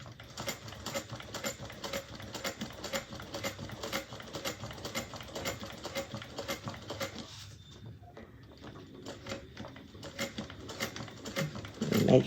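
A sewing machine stitches over chalk lines while making a bag, giving a fast, rhythmic mechanical clatter that runs for several seconds, then fades to quieter fabric handling.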